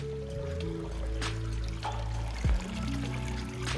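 Creek water trickles and pours steadily in Willis Creek slot canyon in southern Utah, a continuous close gurgle layered with a low droning background hum and a brief thump midway.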